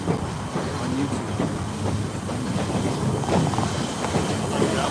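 Historic train of the Oregon Coast Scenic Railroad rolling along the rails near Rockaway Beach, a steady close rumble with clickety-clack and hiss that holds level for the whole stretch, no voices.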